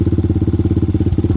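A Lifan KP Mini 300 motorcycle with a swapped ZS175FMN 4-valve engine runs close by, its loud, even exhaust pulses thumping in a rapid steady rhythm throughout.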